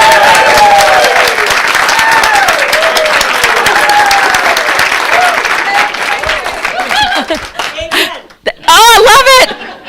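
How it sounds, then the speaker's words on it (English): A church congregation at a Sunday service claps hands vigorously in a continuous, crowded patter, while a voice sings or speaks over it and the clapping thins toward the end. "I want you to clap your hands like there is a fire in the middle"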